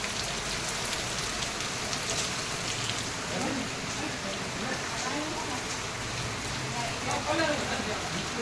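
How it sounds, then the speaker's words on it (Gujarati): Steady rain falls close by, a dense continuous hiss with scattered drops pattering on surfaces throughout. "વરસાદે પણ નામી ચાલુ થઈ ગયો."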